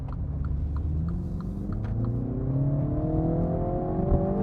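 A 2020 MINI Cooper S, a small front-wheel-drive car running on premium unleaded, accelerating hard, its engine note climbing steadily in pitch through the gear, heard up close from inside the cabin.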